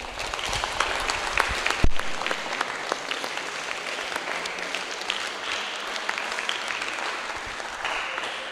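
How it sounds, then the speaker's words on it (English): An upper secondary school audience claps after a student group presentation, a dense, steady round of applause with a few sharper claps standing out, continuing for several seconds. "Let's give them a round of applause."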